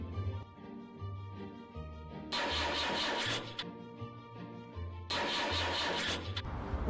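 A mid-sized car engine cranks twice in long grinding bursts without catching, heard close over a soft musical background.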